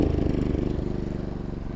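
A MaxPeedingRods 3200 W inverter generator idles at low speed, giving a steady, close mid-low engine drone with an even pulsing throb and no talk over it.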